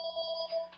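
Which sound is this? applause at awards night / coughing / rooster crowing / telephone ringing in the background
telephone ringing in the background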